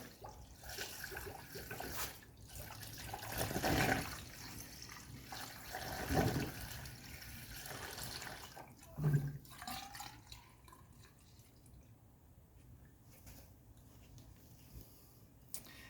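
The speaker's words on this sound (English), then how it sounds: "I also like to detach the upper radiator hose and fill some down that hose that goes into our thermostat housing" A 50-50 coolant mix is poured into the detached upper radiator hose of a 1979 Mercedes 300SD, giving soft gurgling, trickling liquid sounds in several bursts close by before fading to quiet.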